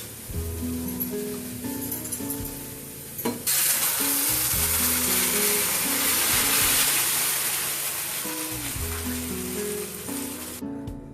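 Arai keerai greens drop into a pan of sautéed onions, the sizzle jumping to a loud, dense hiss that holds steady before cutting off, with soft tonal hum underneath and no speech.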